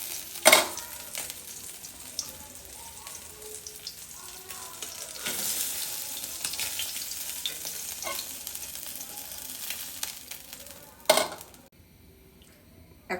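Pabda fish fries in hot oil for a Bengali curry, a soft continuous sizzle with occasional louder scrapes and clinks of a spatula against the pan, and no voices.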